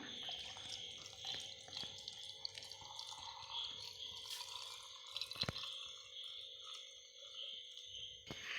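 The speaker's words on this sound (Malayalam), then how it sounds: "അപ്പോൾ ഇതിലേക്ക് നമുക്ക് ചൂടാക്കി വെച്ചേക്കുന്ന വെള്ളമോട് ഒഴിച്ചു കൊടുക്കാം" Heated water poured into a bilimbi (irumban puli) pickle, giving soft dripping and trickling liquid sounds with a few sharper drops, fairly quiet and steady over a faint hum.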